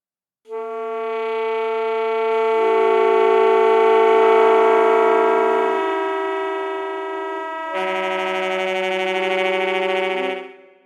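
Saxophone multiphonics: a sustained, reedy chord of several clashing tones held for about ten seconds, buzzing and dissonant, shifting pitch partway through, played alone.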